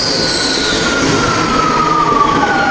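A train rumbles into a station with wheels squealing in long high-pitched whines over a steady heavy roar, close and loud.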